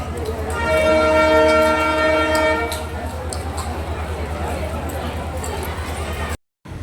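A train at Chinchwad railway station sounds a long, loud horn blast over a steady low rumble, followed by rolling wheel noise and platform bustle.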